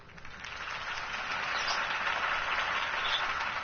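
Video game crowd applauding after Harvey Dent's campaign speech, a steady wash of clapping that swells slightly and holds for a few seconds with no voices over it.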